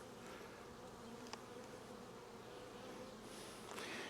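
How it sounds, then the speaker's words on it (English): Honey bees fill an open hive with a dense, continuous buzzing drone, steady and close throughout, with a faint click or two over the hum. "There is a lot of bees in this hive."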